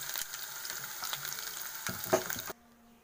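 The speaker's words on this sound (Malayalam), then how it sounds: "കാഷ്യൂനട്ടും മുന്തിരിങ്ങയും ഉള്ളിയും ഒന്ന് വറുത്ത് പോരാം" Long-sliced onions fry in hot oil until browned, a close, steady crackling sizzle that stops abruptly near the end and leaves a faint hum.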